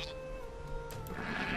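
Sheep bleat in the real-time strategy game Age of Empires II, one clear bleat over a steady hum of game ambience with no talk.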